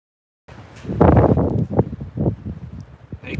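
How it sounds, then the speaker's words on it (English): Gusts of wind buffet the microphone outdoors near a fire in the evening, loud rushing bursts that rise and fall after a brief silent start. "Pretty windy out here."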